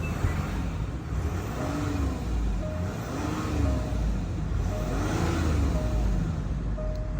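A 3.0-litre Range Rover Sport Autobiography with 126,318 miles idles steadily, a low smooth engine hum with gentle rising and falling swells, heard from nearby with no talking.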